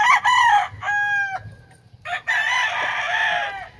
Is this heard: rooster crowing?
yes